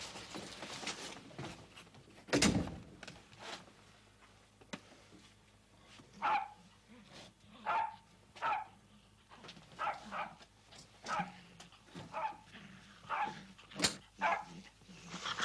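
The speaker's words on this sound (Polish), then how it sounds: "Co to za pies?" A dog aboard the Polish submarine ORP Orzeł barks and whimpers in a long irregular series of short yips and whines, moderately distant, with one sharper loud bark early and low background hum throughout.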